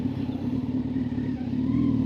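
A motorcycle engine runs steadily on a mountain road on the Delhi to Ladakh route, a continuous close drone with a strong low hum and light clatter, with no talk over it.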